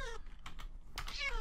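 A cat meows in the video game Minecraft. Two short meows, clear and fairly close, sit over a soft steady background with a few light clicks.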